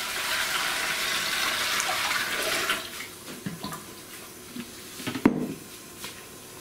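Reverse osmosis water pouring into a distillation boiler, a close rushing stream that fades after a few seconds into quieter trickles, sloshing and small clunks, with one sharp knock near the end.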